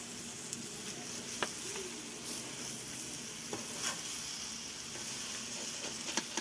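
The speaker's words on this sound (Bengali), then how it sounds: "নাড়ার পালা, অনবরত কিন্তু নাড়তে হবে। আর আগুনটা কিন্তু একেবারে লোতে করে দিতে হবে" Raw mango pickle with sugar is stirred in a pan over low heat, with a soft, steady sizzle and a few light scrapes and clicks of the spoon against the pan, quiet and without talk.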